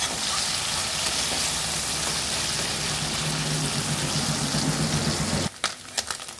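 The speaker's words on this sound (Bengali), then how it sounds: "তেল গরম হয়ে গেছে, পুঁটি মাছগুলো ভেজে নেব।" Puti fish fry in hot oil, a loud, dense, continuous sizzle that cuts off abruptly near the end, leaving a few sharp clinks and spatters.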